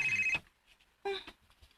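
A cellphone rings with an incoming call: a brief electronic ring that cuts off after a moment, followed by a short voice in a quiet room.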